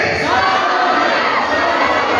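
A church congregation shouts a response together in unison, a loud, dense wall of many voices that stays steady for a couple of seconds.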